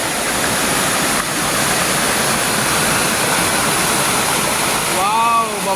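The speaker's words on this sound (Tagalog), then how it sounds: "Anli Falls." Anli Falls on the Mt. Kamamasam Rosary Trail roars with a steady, loud broadband rush of falling water. The wash stays constant throughout, with brief whistling or voice-like tones near the end.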